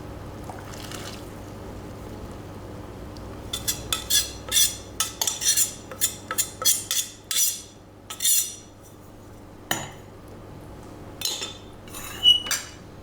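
Spoon stirring risen yeast into Sri Lankan hopper batter in a bowl, clusters of close clinks and scrapes against the bowl's side that start after a quiet opening and come in uneven bursts, with no speech.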